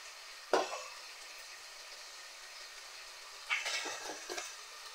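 Salt being stirred into a pot of country chicken for village-style natu kodi curry, two short scraping sweeps of a spoon, one early and a longer pair near the end, with faint sizzling between.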